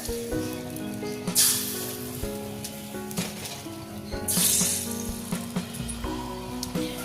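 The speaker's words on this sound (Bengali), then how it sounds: "তো আমি এইভাবে ডাবুতে করে তুলে দেখুন এই খোলার মধ্যে দিয়ে দিচ্ছি।" Chitol pitha batter ladled into a clay pan and sizzling, a continuous crackling hiss with sharper bursts as batter hits the hot surface, over faint background tones.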